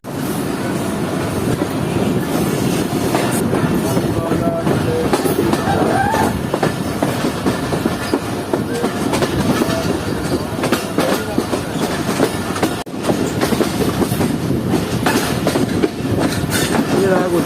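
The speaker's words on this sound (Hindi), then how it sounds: "हमारी 40 डाउन जाफर एक्सप्रेस ZCU 26401 के साथ एंटर हो रही है गुजरात रेलवे स्टेशन पर" The 40 Down Jaffer Express, hauled by locomotive ZCU 26401, pulls into Gujrat railway station, with a loud, continuous rumble and rhythmic clickety-clack of wheels heard from on board throughout.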